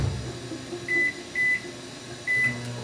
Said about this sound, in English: so we do recommend the microwave